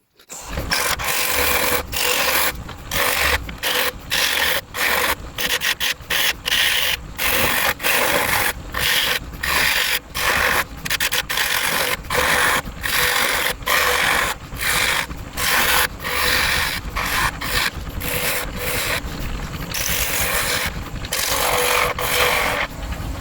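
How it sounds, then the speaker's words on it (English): Continuous rhythmic rasping of sandpaper on oak, cherry and ash wood, sanded by hand, close and loud, with fast repeated back-and-forth strokes and no pauses. "Just give it a quick sand."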